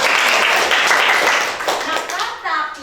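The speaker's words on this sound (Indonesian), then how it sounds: "Tepuk tangan untuk kamu semua." A group of children claps hands in a classroom, a dense burst of applause that fades and tapers into scattered claps, with young voices mixed in.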